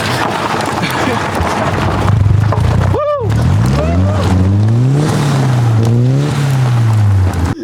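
An old, faulty car is push-started in second gear, the engine sputtering, then catching and revving up and down in loud rising and falling sweeps, with wind buffeting and voices around it.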